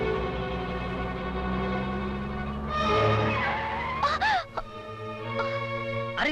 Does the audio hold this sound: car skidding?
yes